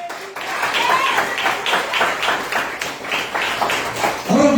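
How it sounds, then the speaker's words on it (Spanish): A congregation applauds during a church service, rapid uneven clapping from many hands in a reverberant room, fairly loud, with a voice cutting in at the end. "Denle un aplauso al Señor."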